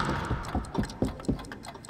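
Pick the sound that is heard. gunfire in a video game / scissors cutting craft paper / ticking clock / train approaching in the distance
ticking clock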